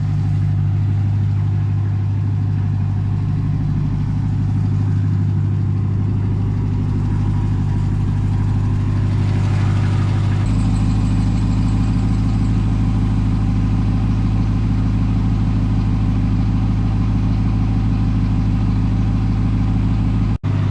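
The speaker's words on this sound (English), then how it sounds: "I just want to do a before and after on the sound of the engine." A Ram TRX pickup truck engine idles steadily with a deep, constant low rumble, shifting to a heavier, fuller drone partway through, heard close and alone.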